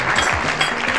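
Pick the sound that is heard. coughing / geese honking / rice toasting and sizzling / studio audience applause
studio audience applause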